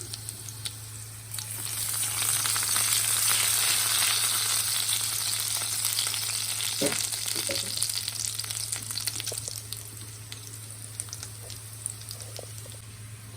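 Crushed garlic and cumin seeds sizzle steadily in hot oil in a pan for a methi masala, loud and close, with a couple of faint stirring clinks partway through.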